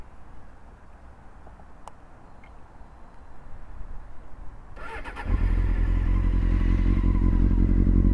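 Quiet background, then a Honda CBR 600 F sport motorcycle engine with 90,000 km starts abruptly and settles into a loud, steady idle rumble close by.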